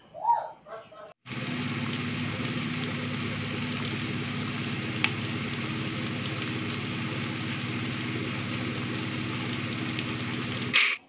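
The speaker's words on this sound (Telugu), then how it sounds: "ఇక్కడైతే నేను పొటాటో ముక్కలు అయితే వేస్తున్నాను. గోల్డెన్ బ్రౌన్ కలర్ వచ్చే వరకు అయితే వేపుకుంటాను." Potato pieces sizzle and crackle in hot oil, frying until golden brown. After a brief opening sound, a steady, dense hiss holds close and even for the rest of the clip, with no talk over it.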